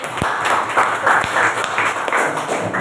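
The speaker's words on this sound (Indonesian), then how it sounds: "Beri tepuk tangan untuk Bet." A classroom of students claps for a classmate who has just recited a Quran verse, a steady wash of moderate applause lasting a few seconds with a couple of sharp knocks.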